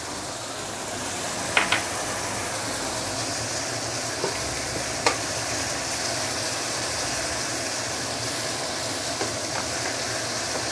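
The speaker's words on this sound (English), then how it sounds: "saute this for at least 3 to 5 minutes under medium heat" Chili sambal paste is sautéed in a pan over medium heat for a Nyonya dish, giving a steady, even sizzle throughout with a few faint clinks of the spatula and no voices.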